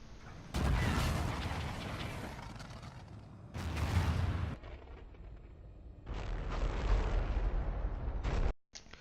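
Gunfire from the R3K rifle in Infinite Warfare, three loud sustained bursts of rapid shots separated by short pauses, with no talking.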